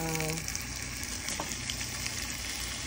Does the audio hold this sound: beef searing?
yes